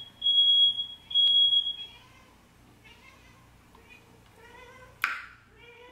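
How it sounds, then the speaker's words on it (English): Smoke detector alarm sounding indoors, two sharp piercing high beeps at the start, followed by quieter meowing-like cries and a brief clap or knock. "That was a smoke detector because somebody is burning shit downstairs"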